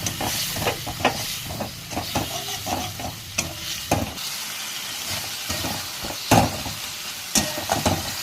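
Oil seasoned with cinnamon and whole spices takes a ginger, cumin and onion paste, crackling and sizzling up close under repeated rhythmic scrapes and knocks of a spoon against the pan.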